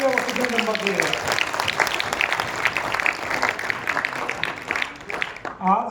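An audience at a World Press Freedom Day gathering of journalists in Hisar breaks into loud, dense applause, which runs steadily for several seconds and fades as a voice starts speaking near the end.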